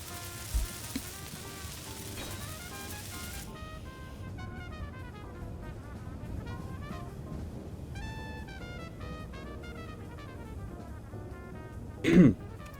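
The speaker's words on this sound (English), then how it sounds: "Still coughing up a lung." A single cough or throat-clearing bursts out near the end, close and fairly loud, after a long stretch of steady game music and ambient hum with no talking.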